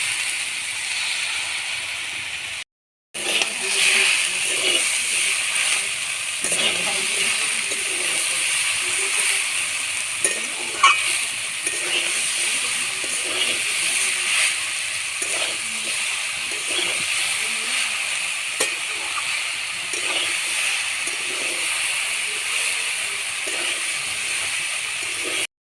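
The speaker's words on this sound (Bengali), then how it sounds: "বাঁধাকপিটা আলুর সাথে 2 মিনিট মতন ভেজে নিয়েছি" Dried cabbage frying and being stirred with potatoes in a pan, a continuous steady sizzle with soft intermittent scraping and clinks of stirring, fairly close and unaccompanied by speech.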